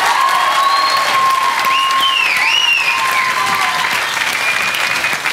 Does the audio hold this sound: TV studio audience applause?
yes